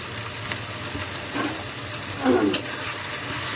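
Liver frying in a pan with turmeric and salt, a soft sizzle with light stirring scrapes and a brief louder burst of clatter midway, close and fairly quiet.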